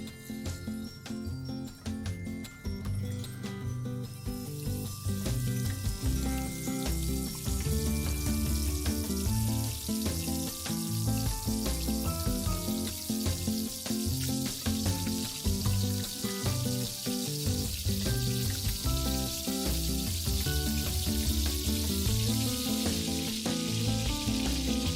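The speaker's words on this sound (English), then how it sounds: "Time to deep fry, and the oil in this wok has heated up, so I'm just going to fry a few of these lollipops." Chicken lollipops deep frying in hot oil in a wok give a loud, continuous sizzle and bubbling that swells after a quieter start and stays dense throughout.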